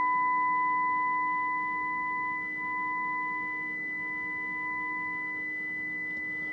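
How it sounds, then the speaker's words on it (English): A 2 kHz test tone plays through a Kenwood R5000 HF receiver with its notch filter engaged, a steady, pure whistle held without a break over a faint background hiss. "now we can only hear the 2 kilohertz tone"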